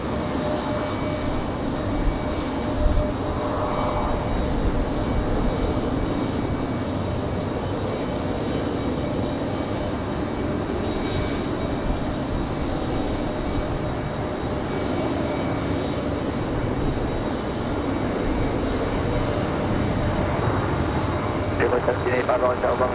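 An airliner arriving from JFK at Raleigh-Durham International Airport gives off a continuous, even engine roar that stays steady for the whole stretch. Faint radio chatter and voices run underneath.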